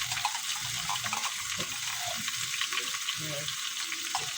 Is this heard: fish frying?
yes